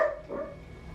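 A single short dog bark, fairly faint and slightly distant, fading into quiet background noise.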